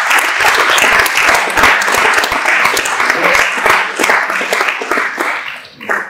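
Loud, close applause from an audience at a gala for rings, crisp individual claps within a dense crowd ovation, holding steady before easing slightly near the end.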